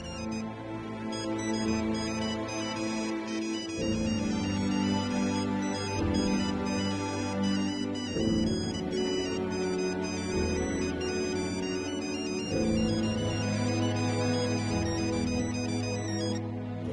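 A phone's melodic ringtone plays loudly and continuously, a repeating electronic tune that cycles through its phrases with no voices over it.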